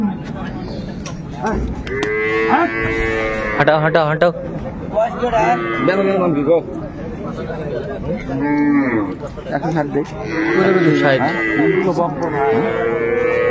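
Cows and calves moo repeatedly in long, drawn-out calls at the Raniganj cattle market in Dinajpur, loud and close, over lively chatter and people talking nearby.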